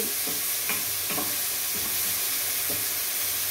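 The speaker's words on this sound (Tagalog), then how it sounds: "Pag medyo nagisa-gisa na ang sibuyas" Chopped onions sauté in a hot pan, a steady soft sizzle broken by a few scraping stirs of a utensil, heard close and with no voices.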